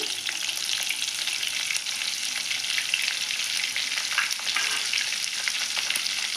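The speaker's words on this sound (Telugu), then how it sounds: "కొద్దిగా ఉల్లిగడ్డ ముక్కలు వేస్తున్నాను తాలింపు గింజలండి" Onion pieces and tempering seeds frying in hot oil for a curry, a steady, close, loud sizzle with faint crackles throughout and no voices.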